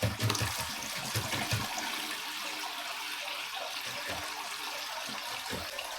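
Tap water pours steadily into a bucket during a roughly 25% aquarium water change, filling the final 10-litre bucket with a constant close rushing splash and no talk.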